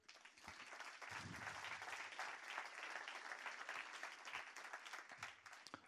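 At the opening of a corporate social responsibility awards ceremony for pharmaceutical companies, an audience gives a round of steady applause for the participating firms, continuous and moderately dense, faint in level and without speech over it.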